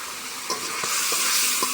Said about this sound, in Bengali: ভালো করে কষিয়ে নিতে হবে দশ মিনিটের মতো ভালোভাবে কষিয়ে নিতে হবে